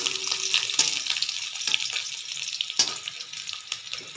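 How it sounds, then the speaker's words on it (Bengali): Crushed garlic frying in a pan with a close, bright, steady sizzle, broken by a few sharper spits and pops. "এটাকে আমি সুন্দর লাল করে একটু ভেজে নেব।"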